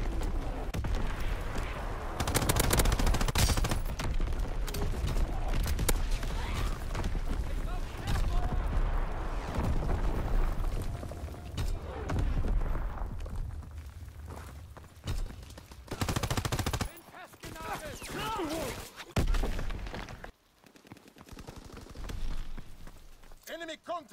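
Booming artillery barrage in a WWII shooter on the Carentan map, dense rolling blasts mixed with gunfire, loud and sustained, then breaking into sporadic bursts, with voices speaking over parts of it.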